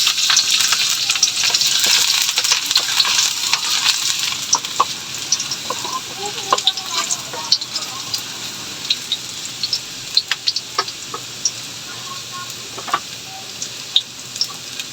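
Garlic sautés in a hot pan for lechon paksiw, a continuous close crackling sizzle with sharp pops and scraping stirs, fading slightly toward the end.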